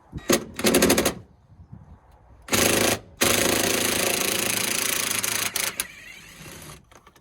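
An impact gun undoes a seat bolt in a Mini R52, giving a short loud rattling burst, another brief burst, then a long sustained hammering run that tapers off.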